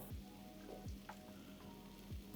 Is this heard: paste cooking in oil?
yes